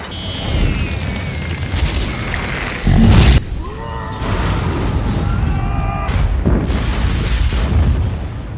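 Infinity Stone blast in a film scene, a sudden loud boom around the midpoint with shattering crackle and rumbling debris, followed by whooshing, ringing effects and sustained noisy turbulence.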